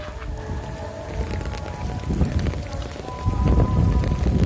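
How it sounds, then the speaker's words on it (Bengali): Rain falls hard during a storm at the Cumilla EPZ, drumming steadily on nearby surfaces and an umbrella with scattered heavier drops, growing louder toward the end. "ছাতা নিয়ে বের হইলাম বৃষ্টির মধ্যে।"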